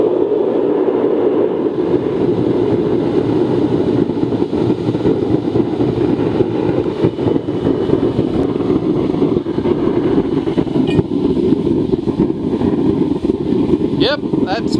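A homemade dirt furnace burner melting aluminium roars loudly and steadily throughout, a dense continuous rumble with brief sharper bursts near the end.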